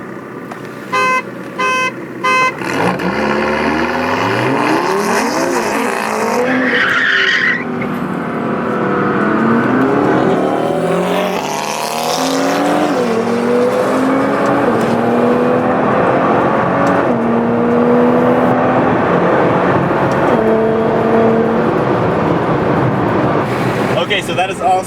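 Nissan GTR racing a tuned McLaren down a runway, with loud engines climbing through repeated gear changes and a stretch of wheelspin, while people talk over the roaring acceleration.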